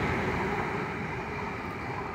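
A double IET train passes Starcross station, its steady broadband rumble and rail roar filling the whole stretch at constant loudness with no pause.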